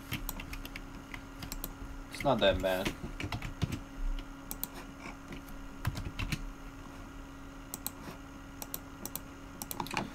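Steady clicking of typing on a computer keyboard the typist is still getting used to while coding MUGEN, rapid light keystrokes running throughout, with a person briefly speaking over it.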